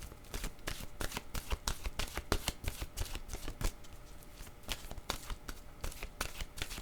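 A deck of oracle cards is shuffled in a fast, steady rhythm of soft, close flutters and taps lasting several seconds, fairly quiet.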